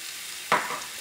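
Chicken, sliced onion and coriander leaves dropped into hot spiced oil, giving a sudden loud sizzle that quickly settles into a softer steady frying hiss.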